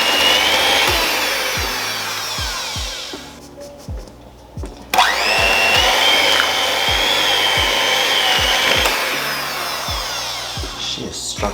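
Electric mixer beating peanut butter cookie dough, a loud steady motor whine with regular low thumps as the beaters turn, briefly easing off and quieting before revving up again.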